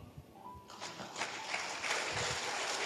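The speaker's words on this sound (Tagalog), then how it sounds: "Ngayon ang pumalakpak ang mga tao rito." A church congregation at a Tagalog preaching service breaks into applause, the clapping starting up partway through and building into a steady, dense wash that continues to the end.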